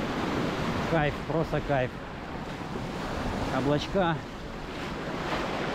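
Warm sea surf washing onto the beach at Punta Cana in the Dominican Republic, a steady broadband roar with wind noise on the microphone and brief speech from a nearby voice over it.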